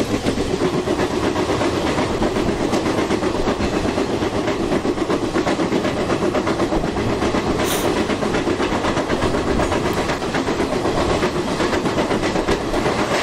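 An Amritsar–Mumbai express hauled by a Tughlakabad-shed WAP-7 electric locomotive in the MSTS/Open Rails train simulator, running fast with a continuous loud rumble and dense wheel clatter throughout, without talk.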